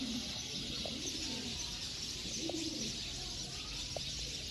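Pigeon cooing, probably a Teddy breed pigeon kept with a breeding pair, in repeated low soft coos amid steady background bird chirps and a constant outdoor hiss, fairly close, with no one talking.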